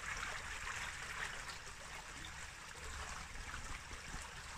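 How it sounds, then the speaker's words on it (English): Steady broadband rush of water flowing past an old watermill's turning water wheel, a continuous wash heard at a distance with no talk over it. "But the actual water wheel is actually going round."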